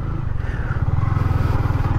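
A Yamaha MT-15 motorcycle idles steadily on a practice ground, its low engine putter loud and close with an even pulsing rhythm for the whole stretch.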